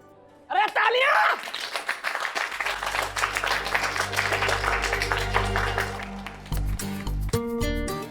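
Applause breaks out after a short spoken line, with dense clapping and taps continuing under music that swells and then shifts near the end.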